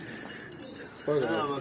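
Pigeons cooing inside a coop during a visit to a pigeon fancier's loft in Antalya, a soft low coo followed by a louder, closer throaty call, with room noise and faint activity around.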